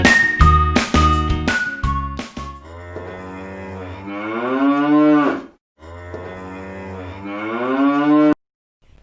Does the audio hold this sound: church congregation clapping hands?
no